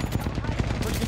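Rapid automatic gunfire in Apex Legends, a dense burst of closely spaced loud shots lasting about a second.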